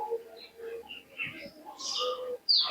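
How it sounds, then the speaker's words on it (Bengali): Male racing pigeons at a high-flying pigeon tournament, giving soft close coos and brief chirps over a quiet background, with a louder burst near the end. "আমার তিনটে নর পায়রা"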